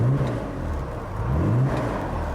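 A Ford Thames 400E engine runs close by at a steady low idle, then briefly swells as it is revved and settles back again.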